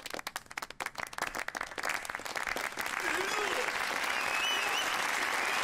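Applause from an in-game crowd in Yakuza 0, starting as scattered clapping and swelling into a loud, steady wall of sustained clapping, with a few faint voices mixed in.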